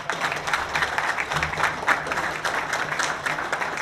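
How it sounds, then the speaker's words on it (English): A meeting audience claps for a slate of nominees, a moderately loud, even patter of many hands continuing steadily throughout. "a round of applause for these good folks"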